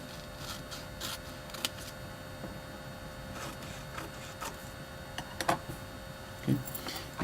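Scissors cutting the corners off a paper triangle make a few crisp snips and paper rustles, close and scattered over a quiet background with no talk.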